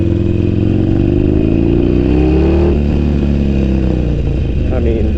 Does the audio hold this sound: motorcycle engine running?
yes